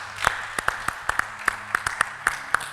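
Congregation at a church service applauding, a run of sharp, irregular handclaps spaced roughly every quarter second over a low steady hum, fairly distant and without voices.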